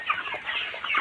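Broiler chickens cluck inside a poultry shed with litter flooring, several birds making overlapping close murmuring clucks in a brief, busy burst.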